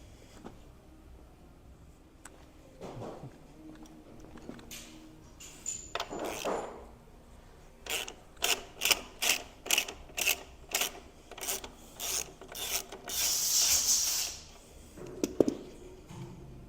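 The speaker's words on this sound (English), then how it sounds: "we're going to get a 17mm socket on an extension and remove this bottom nut" A ratchet with a 17mm socket on an extension turns the lower shock mount nut on a 2023 Kawasaki KX450 SR, making a rapid run of close, crisp clicking bursts after some quieter handling noises.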